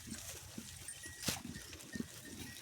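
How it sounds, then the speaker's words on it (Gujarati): Goats feeding on leafy fodder make quiet, scattered livestock sounds: a few soft bleats and rustles at low volume, with one brief sharper noise partway through. "બકરા બધા લેબડો ખાઈ રહ્યા છે"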